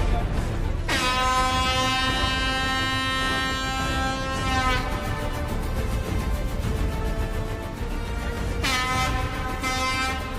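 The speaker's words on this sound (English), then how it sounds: "The demolition expert is ready and awaits the explosion signal." A long, loud horn blast signals an imminent tunnel blast at a rock excavation site, sounding twice with a steady tonal drone over a constant rumble of machinery and ambient noise.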